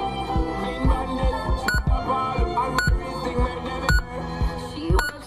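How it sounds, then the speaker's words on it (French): A Clarion RD3 car radio in a Peugeot gives a short security beep about once per second over a steady background of music or hum, each beep brief and moderately loud. "vous noterez un bip de sécurité toutes les secondes lorsque l'autoradio est en marche"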